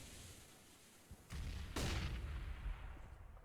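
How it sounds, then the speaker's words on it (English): Gunfire in Counter-Strike on the Cache map during a professional match: a couple of sharp, loud shot bursts arrive about a second apart against a quiet game ambience, with no talking. "Nice angle there, avoids the flashbang and takes Neo down."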